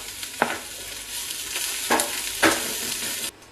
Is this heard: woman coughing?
no